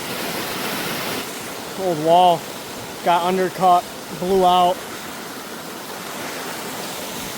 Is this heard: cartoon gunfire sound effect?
no